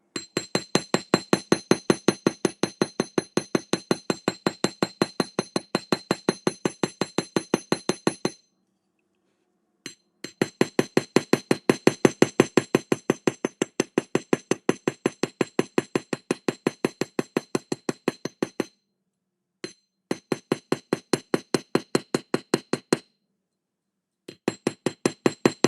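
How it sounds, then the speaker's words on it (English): Rapid metal hammer strikes texture a solid brass jewelry blank, each blow a sharp ringing clink in fast, even bursts separated by short silent pauses, loud and close. "So we just added a hammer texture to our solid brass blank"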